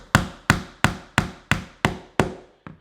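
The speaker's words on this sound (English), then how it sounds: "you just tap it with a hammer," A hammer taps a wooden dowel into the leg of a robot character building kit: eight crisp, evenly spaced knocks, close and clear, the last one softer, with no talk.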